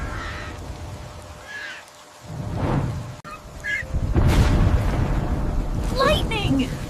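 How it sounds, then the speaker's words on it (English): Cartoon thunder during a stormy scene with lightning, from the animated series The Green Bird Adventure: a deep booming rumble builds partway through and continues loudly to the end, with brief high chirping sounds near the close. "Look at the bright lightning! Thunder. Boom! Boom, boom. Thunder."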